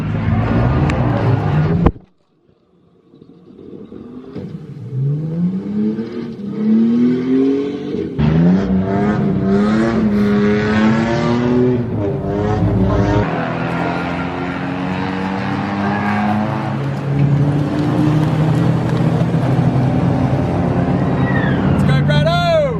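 A Toyota AE86 drift car with a 3SGE engine revs hard through a drift, its engine note rising and falling in long sweeping pulls over tire noise, with a short silent gap near the start and someone talking over it.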